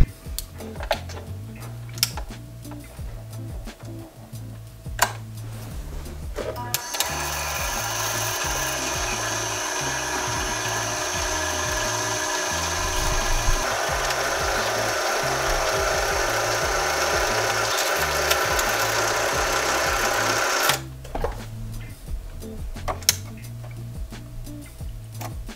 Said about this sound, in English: There is nothing quite as satisfying as watching a bobbin get wound